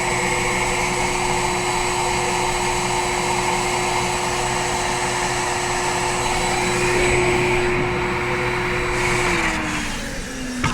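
A pool blower forces air through an inground swimming pool's plumbing line during winterizing, a loud, steady whooshing roar with a constant motor whine that holds for about ten seconds before tapering slightly at the end.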